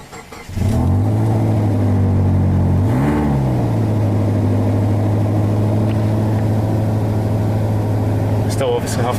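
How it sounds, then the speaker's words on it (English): A Subaru Legacy Spec B 2.0 engine cranks and catches, then idles loudly and steadily, with one brief rev rising and falling shortly after it starts. "I'll now show you the car start."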